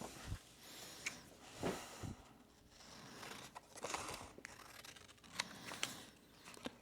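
Scissors snip through packing material while a Vevor heat press is unboxed, giving faint, scattered cuts with light crinkling in a quiet room.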